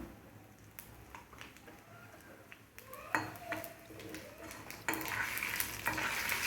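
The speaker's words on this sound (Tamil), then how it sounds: "எண்ணெய் காஞ்சதும் நம்ம சீரகம் மிளகு 2 ஆட் பண்ணிக்கலாம்." Cumin and black pepper frying in hot oil on a stove for ven pongal: a quiet, close crackle with scattered taps and scrapes of a spoon and pot, the sizzle swelling louder near the end.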